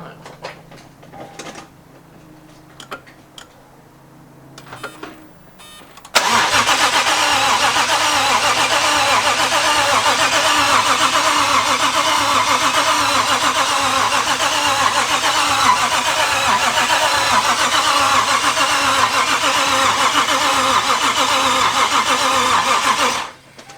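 Toyota 1JZ engine with a single turbo conversion cranks and fires after a few quiet seconds of handling noises, then settles into a loud, steady, rumbling idle close by.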